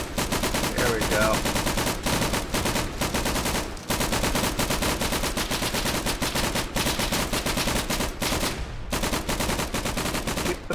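Dense, continuous rifle and machine-gun fire in the World War II shooter Day of Infamy, loud and relentless with overlapping near and distant shots, under faint voices.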